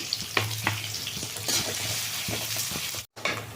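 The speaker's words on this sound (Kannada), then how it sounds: "ಈರುಳ್ಳಿ ಹಾಕ್ತಾ ಇದ್ದೀನಿ ಇದಿಷ್ಟು ಎಣ್ಣೆನ ಚೆಂದ ಫ್ರೈ ಆಗಲಿ" Onions fry in hot oil in a pan with a steady close sizzle, broken by a few stirring scrapes and a brief cut-out near the end. No one speaks.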